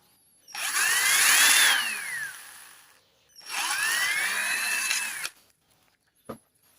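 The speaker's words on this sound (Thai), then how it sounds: "ใช้สว่านหรือว่าไฟลนก็ได้นะครับ" Two bursts of a power drill whining as it bores a small hole through an empty plastic bottle, its pitch rising and falling, separated by a short pause, ending with a click.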